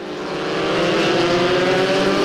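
Formula Masters race cars at the Zhuhai circuit give off a dense, loud, continuous engine roar that builds slightly as they work through a heavy braking zone.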